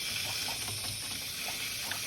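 Water from a garden hose flushes out through a car heater hose during a head gasket job, producing a steady, soft hiss and gurgle at low level with no voices.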